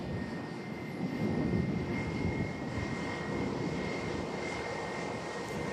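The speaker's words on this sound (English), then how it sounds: "Next to land in from London Heathrow" A passenger plane coming in to land at Manchester Airport on a windy stormy day, a steady distant engine roar that swells slightly early and holds, with wind noise and no voices.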